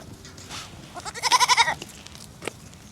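Goats bleating at a farm that takes donated whole pumpkins, with one clear run of several rapid wavering bleats in the middle above a low background murmur.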